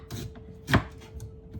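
A knife chops through fresh ginger on a cutting board, a single sharp, close thunk standing out over faint scattered taps, with no voices.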